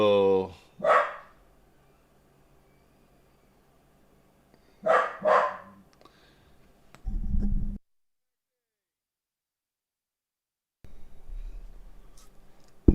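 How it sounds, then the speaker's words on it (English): A dog indoors barks at nothing, a few sharp loud barks in two bursts separated by quiet pauses, with faint background noise and some talk. "To yell at that dog. He's in there barking at nothing."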